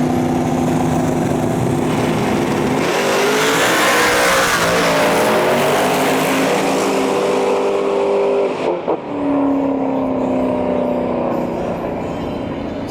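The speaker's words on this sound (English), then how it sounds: "we got Dakota far side of the track driving the Hypnotic car" A race car accelerates on the far side of a dangerous race track, its engine droning loudly and rising in pitch as it revs up, running continuously with no talk.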